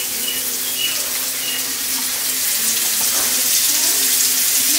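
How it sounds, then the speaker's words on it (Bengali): Pure ghani-pressed mustard oil pours in a steady, loud, continuous stream, a smooth rushing hiss while tilapia and jute leaves are being cooked. "সর্ষের তেল যাচ্ছে, ঘানির একদম পিওর সর্ষের তেল।"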